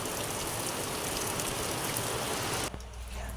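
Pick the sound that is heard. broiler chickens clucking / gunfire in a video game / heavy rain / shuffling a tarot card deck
heavy rain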